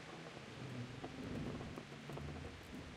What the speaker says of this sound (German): Regnet ja schließlich draußen.